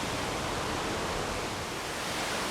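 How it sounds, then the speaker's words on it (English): Waterfall tumbling down rocks in a quiet cliffside landscape, a broad steady rushing roar with no breaks and no voices. "I think we'll grab a shot of this absolutely gorgeous waterfall."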